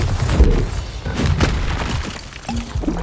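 A spell blast in Hogwarts Legacy goes off with a loud booming crack, followed by crumbling, shattering debris and scattered thuds over a few seconds.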